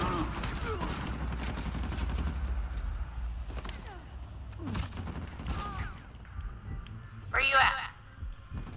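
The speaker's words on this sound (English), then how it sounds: "Getting shot at in the ass." Scattered gunfire aimed at the player in Uncharted 4, sporadic shots and bursts under busy game action and a talking voice.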